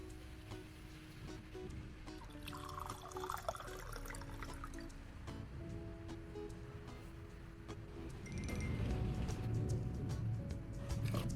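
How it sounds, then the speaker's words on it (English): Water pours into a cooking pot holding potatoes, a thin steady trickle and splash that swells louder and fuller toward the end as the pot fills, heard alone without voices. "she put the potatoes into the pot and carefully poured in water"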